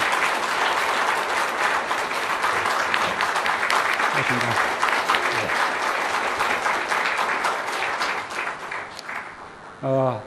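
Guests at a dinner reception for overseas Koreans in India clap warmly, a long steady wash of applause from a large room, ending as someone briefly speaks a word of thanks.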